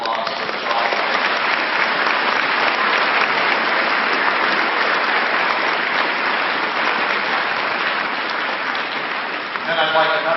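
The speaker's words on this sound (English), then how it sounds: "Give yourselves a big round of applause for the job." Sustained, dense applause from an audience at a high school veterans tribute fills the space loudly and evenly, with a voice rising briefly near the end.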